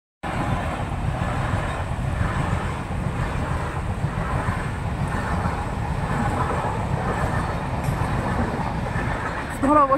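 A train passes near a village level crossing by a bridge, a loud steady rumble and rattle that holds throughout, with faint voices in the background.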